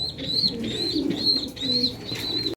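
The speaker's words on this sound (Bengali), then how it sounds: "এই যে এখানে অনেক কবুতর" Pigeons at a pigeon farm coo in repeated soft, rolling phrases, several calls close by, with a faint higher chirp now and then over the low murmur of the birds.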